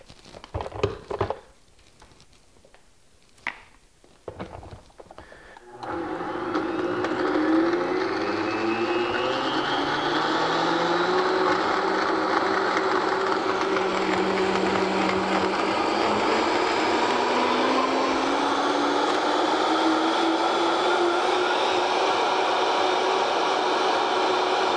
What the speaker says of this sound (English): the reason why I do the ice is it helps kind of crush everything else up together when you put it in the blender